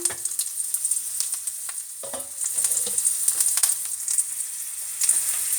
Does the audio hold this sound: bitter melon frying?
yes